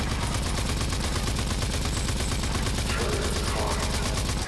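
Turret gunfire in the shooter game Rage 2: a loud, nonstop rapid stream of automatic shots close by, with brief faint voice underneath.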